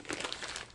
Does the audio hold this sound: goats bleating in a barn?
no